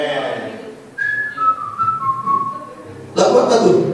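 A person whistling a short descending tune during a Sunday church service, clear and close, followed by a sudden louder burst of sound.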